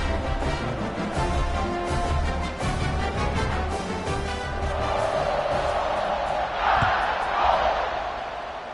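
A stadium crowd at a football game keeps up a steady roar and cheers, with a swell near the end, while a commentator talks over it.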